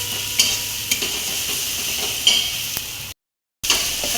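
Onions frying in oil for vada pav, sizzling steadily with scattered clinks and scrapes of a spoon stirring the pan, fairly quiet and close, with a brief cut to silence near the end.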